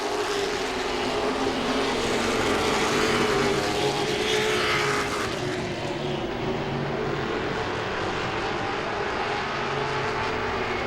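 Late model stock cars racing the final lap at Langley Speedway, a loud continuous roar of engines passing close by, swelling and then fading as the pack moves away.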